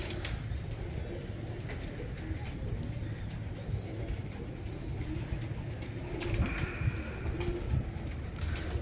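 Pigeons coo softly and steadily in a breeder loft, with occasional chirps and light wing flutters over a constant low background hum.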